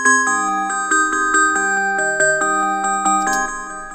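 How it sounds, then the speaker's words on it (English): A sampled bell synth played in the EXS24 sampler, ringing out a clear melodic sequence of bright, chiming notes in a steady rhythm, each with a short sustain, close and alone with no voices. "it's a typical bell sound, but it just had such a unique feature set to it"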